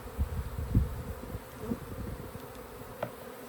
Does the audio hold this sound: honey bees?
yes